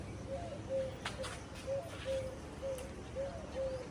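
Pigeons at a rooftop loft coo softly in a steady repeating rhythm, about eight low murmuring calls at a moderate distance, with faint background noise.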